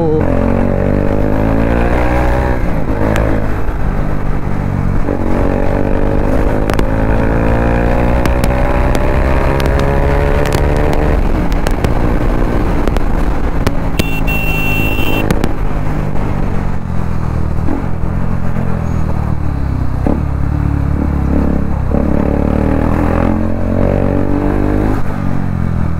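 A motorcycle weaves through heavy city traffic near flyover construction, its engine droning steadily and rising and falling in pitch as it revs, with wind rush throughout and a brief horn-like tone midway.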